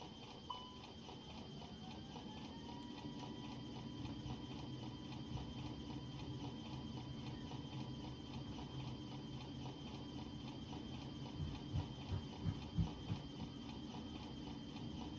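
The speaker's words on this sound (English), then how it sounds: "let the engines build up" Airbus A320neo jet engines in Microsoft Flight Simulator 2020 hold a steady, quiet whining drone with a low rumble and a few soft thumps near the end.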